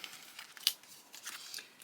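Scissors trim scraps of patterned card-making paper in a few quick, light snips with soft paper rustling between cuts, close but quiet.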